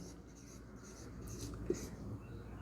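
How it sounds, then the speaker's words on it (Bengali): Pen or chalk scratching out a numerical math solution on a board or paper, a faint steady scrape under low room hiss with one brief tap partway through. "এখানে যা আছে তাই লিখব"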